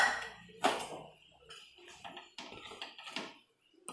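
Fish slides into a pot of boiling liquid, then a metal lid is set over it, giving a few close clanks and clinks of metal against the rim, with brief bubbling between them.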